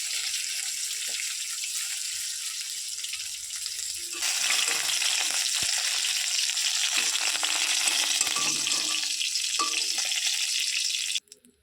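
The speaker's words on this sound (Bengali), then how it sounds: "এবার আমি দিয়ে দিলাম জিরা ফোড়ন" Cumin seeds tempering in hot oil give a steady, close sizzle that suddenly swells louder partway through, holds as a dense crackling hiss, then cuts off sharply at the end.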